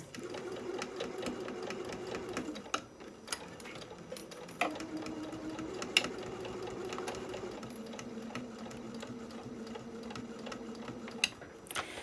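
A sewing machine stitches fabric for a small fat-quarter tote bag, running in a steady mechanical hum with rhythmic needle ticking, stopping briefly and restarting several times with small clicks between runs.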